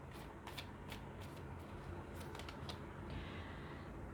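A deck of tarot cards being shuffled up close, a series of quick riffling bursts and soft flicks in an otherwise quiet room.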